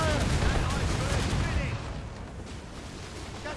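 Ship cannons firing in Assassin's Creed Rogue, loud overlapping booms and rumbling blasts in the first half that fade toward the end, with voices shouting over the gunfire.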